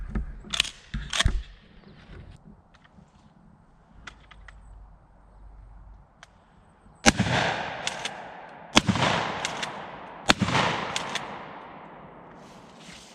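Rifle shots fired outdoors at a pumpkin packed with Tannerite, several sharp cracks spaced a few seconds apart, the later reports loud and booming with long rolling echoes.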